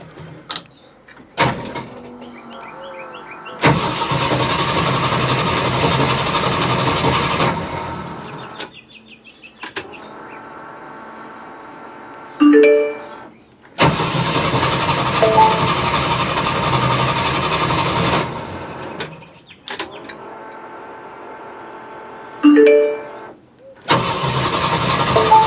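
A Jeep CJ-7 engine cranks and fires repeatedly, with loud close bursts of running separated by quiet gaps and short cranking sounds, a few clicks and clunks between attempts.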